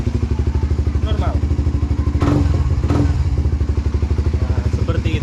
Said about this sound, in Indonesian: Motor kalian akan tetap menyala normal.